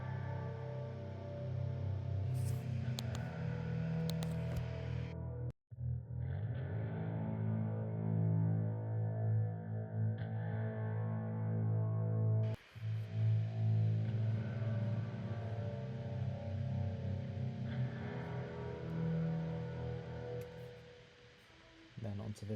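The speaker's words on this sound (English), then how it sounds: "It's the Hollow Pad preset on the Experimental Guitars folder." A Logic Hollow Pad preset from the Experimental Guitars folder plays a sustained, layered synth pad that swells and shifts chords over about twenty seconds, with two sharp dropouts and a fade near the end, and no talking.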